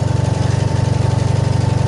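A 1988 Honda VF750C Super Magna V4 motorcycle engine thrums steadily during a two-up ride, a loud, even low pulsing rumble with rapid regular beats and no talk.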